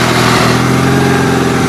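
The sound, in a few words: vehicle engine straining to pull a trailer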